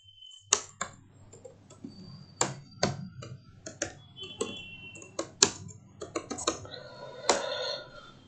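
Computer keyboard typing in an SAP MM session, a run of irregular close clicks and taps with short pauses, sharp individual keystrokes over a faint steady hum, no talking.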